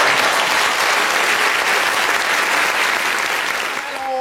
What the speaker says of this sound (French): Ok, applaudissons pour Nathanaël, s'il vous plaît.